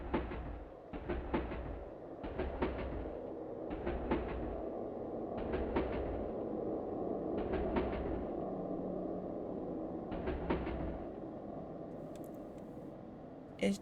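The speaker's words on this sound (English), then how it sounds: "Is the subway stopping?" A subway train in a video game rolls along steadily, its low rumble broken by a regular rhythm of rail clacks about once a second, close and continuous with no talk over it.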